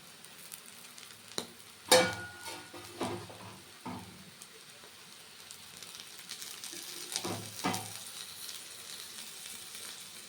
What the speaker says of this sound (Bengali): ধনে পাতা দিয়ে এক মিনিট মতন উল্টে পাল্টে একটু ভেজে নামিয়ে নেব